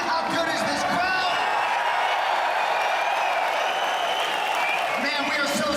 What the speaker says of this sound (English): How good is this crowd?